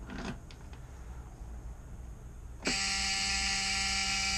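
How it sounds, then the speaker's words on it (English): Faint background hum, then a sudden steady electronic power-on beep of an electrical system switches on and holds loud and unbroken to the end. "It's going to be a beep, Blue."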